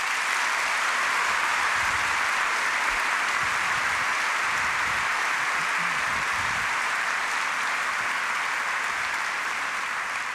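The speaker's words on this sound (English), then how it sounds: "I just want to invite one more round of applause for all three of these panelists" An audience at a panel debate applauds the panelists, dense sustained clapping from a large crowd filling the whole stretch at steady loudness.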